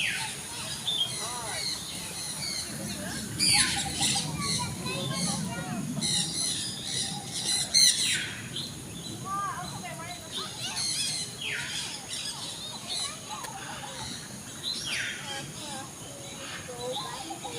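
Birds squawk and chirp in repeated sharp bursts during a bird show at Jurong Bird Park in Singapore, loud and fairly close over a steady crowd murmur, with faint voices in the background.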